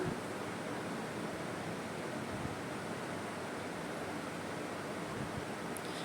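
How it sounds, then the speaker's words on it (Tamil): Appam batter fries in hot oil with a soft, steady, hissing sizzle that stays even and fairly quiet throughout, with no talking. "எண்ணெய் நல்லா சூடானதும் நம்ம ரெடி பண்ணி வச்ச அப்பமாவை ஒரு கரண்டியில் எடுத்து கொஞ்சம் கொஞ்சமாக சேர்த்துக்கலாம்"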